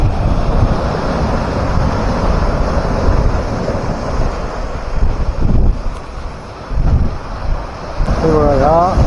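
Ocean waves at high tide on Gorai Beach, Mumbai, a loud, continuous roar of surf with heavy wind rumble, brief surges, and faint voices in the background.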